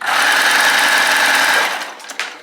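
A Babylock Primo cover stitch sewing machine runs at speed in a loud, steady whirring hum that stops after about a second and a half, followed by a couple of small mechanical clicks.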